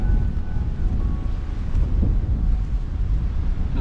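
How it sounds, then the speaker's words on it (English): Chilly wind blows across a hillside corrie on the way up Ben Cruachan in Scotland, rumbling steadily against the microphone with a continuous, fairly loud low buffeting and no break. "It's getting a bit windy, a bit chilly in that wind."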